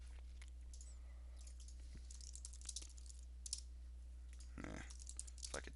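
Keys on a computer keyboard clack in short, irregular bursts, close and fairly quiet, over a steady low electrical hum with no talking.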